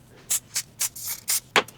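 Hair spray mists onto a wig's lace in six short, sharp hissing bursts, evenly spaced and close, each lasting a fraction of a second.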